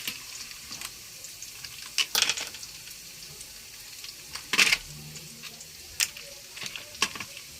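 Ginger, onion and garlic fry in a pan, a quiet sizzle broken by several sharp scraping stirs and clatters at irregular intervals, with little else around.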